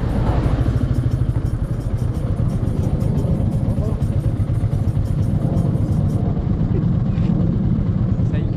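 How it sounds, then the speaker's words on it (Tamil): A plane flies overhead near the Grand Anicut, the ancient Kallanai dam on the Trichy–Thanjavur road, as a loud, constant engine drone that fills the clip without letup. "இன்னும் ஃப்ளைட்டு போகுது."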